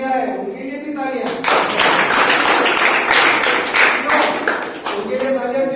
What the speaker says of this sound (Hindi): और जिनने पार्टिसिपेट नहीं किया है उनके लिए भी तालियां।